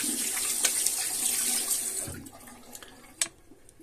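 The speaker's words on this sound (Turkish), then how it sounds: "Hemen elimizi yıkayalım." Tap water runs steadily over hands being washed, a close, even hiss for about two seconds before the flow cuts off, leaving a few scattered drips and splashes.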